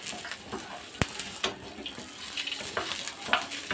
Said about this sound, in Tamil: சின்ன வெங்காயம் சேர்த்து நல்லா வறுத்துக்கலாம்